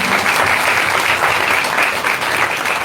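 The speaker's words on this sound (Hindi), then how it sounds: "तो एक बार हम लोग जोर से यीशु मसीह के लिए ताली बजाएंगे।" A church congregation at a Friday evening prayer meeting claps loudly in praise of Jesus Christ, a thick, sustained roar of many hands that stays strong from start to finish with no voices.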